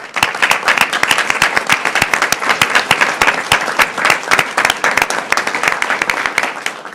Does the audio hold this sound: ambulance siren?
no